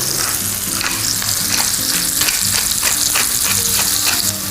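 Onion seasoned with salt and pepper fries in a heavy-bottomed pan, sizzling loudly and continuously with crackling spatters and the scrape of stirring, close up and alone.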